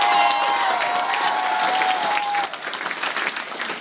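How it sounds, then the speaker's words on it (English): A crowd at a convention cosplay masquerade applauds and cheers for the event's MC, a dense, loud round of clapping that tapers slightly toward the end. "Everybody, let's give Tony a round of applause for being an awesome MC."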